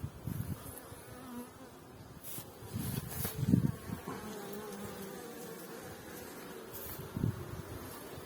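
A honeybee swarm in a box buzzes in a low, continuous drone close by, swelling and fading with occasional louder bursts and faint knocks against wood.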